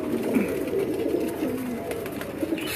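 Striped pigeons being caught and handled coo in soft, overlapping low warbles close by, a continuous murmur with no talking.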